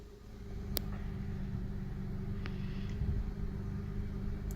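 A 2005 Honda Odyssey engine idles at low speed, a steady close rumbling drone with a faint constant hum and a couple of brief clicks.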